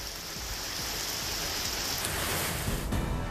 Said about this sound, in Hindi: शहर के कई हिस्सों में हुई झमाझम बारिश